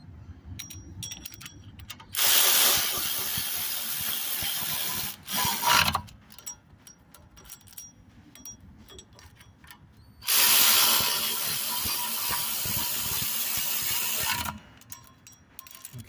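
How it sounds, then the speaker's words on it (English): A hand ratchet wrench tightens bolts during a rear wheel bearing installation on a Kia Soul, giving two loud, steady bursts of fast ratcheting clicks several seconds long, separated by quieter handling noise. "Take my little handy dandy ratchet wrench."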